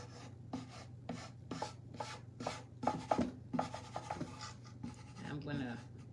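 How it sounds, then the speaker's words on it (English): A surface is scuffed by hand in short, quiet rubbing and scratching strokes, irregular and close, over a low steady background hum. "I'm gonna scuff that up a little bit more up here in these corners."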